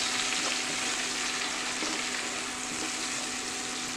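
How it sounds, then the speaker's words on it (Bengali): Garlic spluttering as it fries in a pan, a dense, continuous crackling sizzle held at an even level throughout, close and loud, with no voices. "রসুনটা খুব ছেটকাবে বলে আমি টমেটোটা দিয়ে দেবো।"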